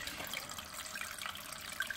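Aqua One Moray internal aquarium filter running partly out of water makes a steady, close splashing and gurgling wash of water that stays even throughout, with no voices.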